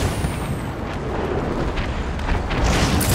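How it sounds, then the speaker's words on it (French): Sustained gunfire and explosions are aimed at Batman in Arkham City, a loud, dense roar of blasts and shots filling the whole moment without pause. "On a Batman dans le viseur. Démarrage des tirs."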